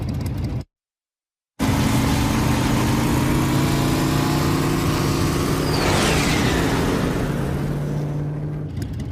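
A motorcycle being ridden in an anime scene, its engine a steady close drone that holds throughout and cuts out briefly near the start, with a rising whoosh partway through and no talking.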